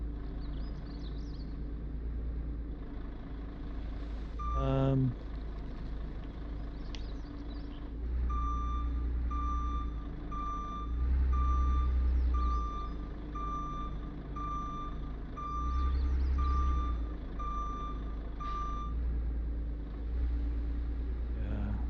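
A truck reverses a trailer, its reversing alarm beeping in a steady repeated pattern over a low diesel engine rumble, with a brief louder burst partway through.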